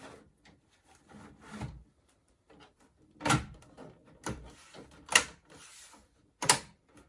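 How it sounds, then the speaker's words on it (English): Plastic case clips on a beige Power Macintosh G3 desktop engage as the cover is fitted, giving a few sharp snapping clicks among soft rubbing and scraping handling noises, close and fairly quiet. "And you'll hear them engage and clip in if you're doing it right."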